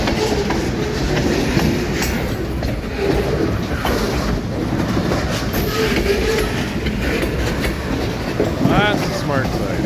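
A long train rolls past on the railway with a loud, continuous rumble and rhythmic clickety-clack of wheels on rail joints, close by, with brief squeals and a voice speaking over it.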